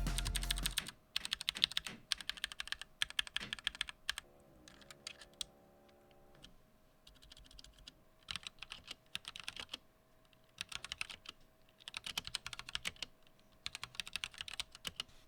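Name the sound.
mechanical keyboard typing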